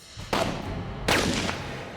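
Two loud, close gunshot cracks fired into mixed explosive chemicals, catalyst and oxidizer, about three-quarters of a second apart, each leaving a short rumbling tail.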